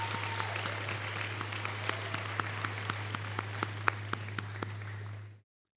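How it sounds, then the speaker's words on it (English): A graduation commencement audience applauds: dense, sustained clapping from a large crowd, moderately distant in a big hall, with sharp individual claps standing out before it cuts off abruptly. "give a round of applause to your parents, friends, and family who supported our graduates"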